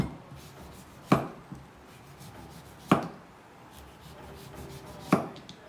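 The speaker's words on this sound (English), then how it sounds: "You need a serrated knife, which works really well with this." Serrated knife cutting the skin off a piece of food on a board, three sharp crisp cuts spaced about two seconds apart over faint quiet background, no talking.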